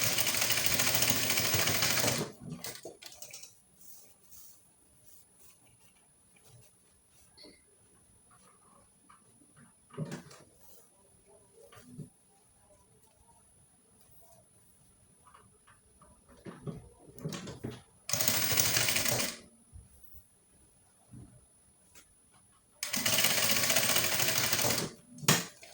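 A sewing machine stitches an overbust cupped corset in loud, close bursts of rapid whirring, with quieter handling sounds and shuffling in the pauses between runs.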